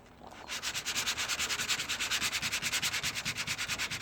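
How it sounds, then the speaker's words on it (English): Steady, rhythmic back-and-forth cross-hatch sanding with light pressure on the body of a 1957 Chevrolet, strokes repeating about eight times per second, close and continuous with no talking. "And what I do is called cross hatch sanding."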